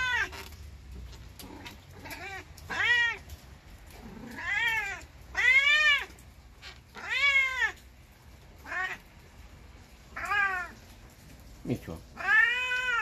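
A cat meows loudly over and over in long, siren-like wails, each call spaced about a second apart, close to the listener.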